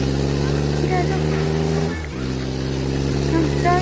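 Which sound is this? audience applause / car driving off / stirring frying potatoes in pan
car driving off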